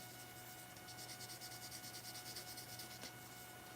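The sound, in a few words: polishing stick sanding plastic part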